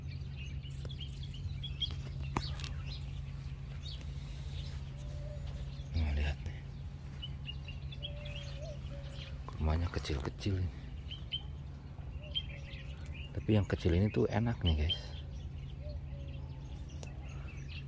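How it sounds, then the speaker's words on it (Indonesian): Numerous small birds chirp in short, scattered bursts among date palms in an orchard, heard faintly behind someone talking and a low steady background hum. "Ini banyak banget suara-suara burung."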